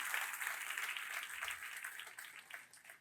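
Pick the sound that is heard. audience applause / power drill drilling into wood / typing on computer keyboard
audience applause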